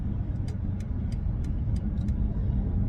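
2024 BMW i5 M60 electric car in Oxide Grey accelerating hard on the road, a steady low rumble of motor and road noise with faint periodic ticking, continuous throughout.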